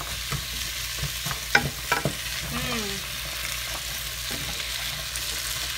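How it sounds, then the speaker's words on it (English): Onions sizzle and brown in a pan while a utensil breaks them up, a steady frying hiss with several knocks and scrapes against the pan. "Break these onions up."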